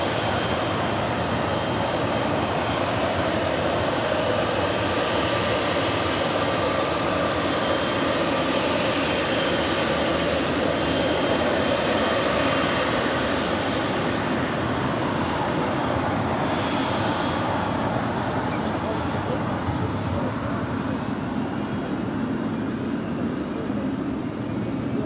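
An American Airlines jet lands on runway 25 left at LAX with a steady, loud broadband roar that holds evenly for about 25 seconds, heard from close by with no talk over it.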